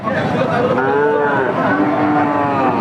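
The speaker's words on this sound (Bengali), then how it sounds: "শুকনো আড্ডি সার গরু" Loud, close mooing from skinny, bony cattle at a busy cow market, one long drawn-out low call rising and falling over background murmur.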